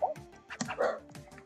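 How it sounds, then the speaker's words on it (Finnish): A household dog barks and yips in several quick, sharp bursts close to a computer during an online Stumble Guys gaming session, a whimpering tone mixed in, with no talking over it. "Se haukkuu aika paljon."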